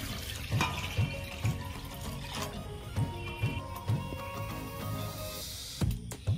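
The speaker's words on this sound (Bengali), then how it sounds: "আমি উনুন ধরিয়ে নিয়েছি, কড়া বসিয়ে দেবো। জল দিয়ে দেবো।" Water poured into a wok on a stove, a steady splashing stream with regular rhythmic pulses running throughout, close and moderately loud.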